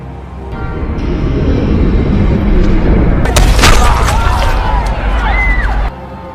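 A sniper rifle shot in a film: a sharp, loud boom bursts out midway through a dense, rumbling cinematic soundscape, then fades into a lingering ambient wash.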